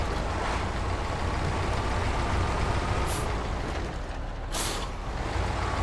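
A heavy truck's air brakes hiss in a trucking video game, with two short bright bursts of release over a constant loud engine rumble.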